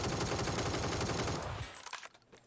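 Fast automatic gunfire in PUBG on console, a dense, loud, close burst of shots that stops after about a second and a half, leaving a fading tail.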